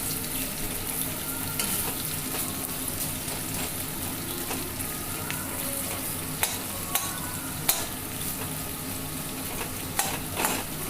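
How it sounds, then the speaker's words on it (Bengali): Chopped onion frying over a low gas flame in a pan, with a steady sizzle and occasional clinks of a spoon stirring, close and continuous with no talking. "আর এবার দেখো পেঁয়াজটাকে আমি একটু ফ্রাই করে নেব লাল করে।"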